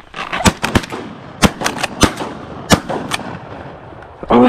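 Gunshots ring out in a river shootout, about ten sharp, loud reports spaced irregularly over several seconds, with a short burst of other noise right at the end.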